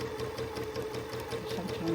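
A sewing machine runs in quick rhythmic stitching bursts during free motion quilting on a Linus quilt, moderately close, with a faint speaking voice underneath.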